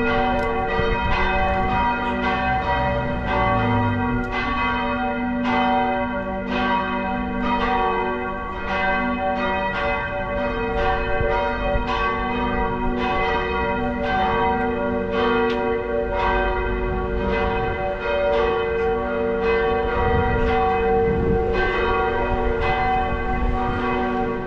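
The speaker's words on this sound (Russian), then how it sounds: "О, звон колоколов. Зовут на вечернюю молитву." Church bells in Frombork ring for evening prayer, a long steady peal of rhythmic, resonant strikes with rich ringing overtones that hold loud and even for the whole stretch, with no voices.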